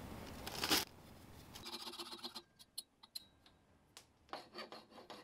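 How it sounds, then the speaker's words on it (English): A hand file rasps across the mushroomed end of a steel rod from a metal lathe faceplate, one loud burst of strokes followed by quieter scattered scrapes, taps and clinks of metalwork close by. "I filed down some of the mushrooming that was caused by my initial hammering attempt"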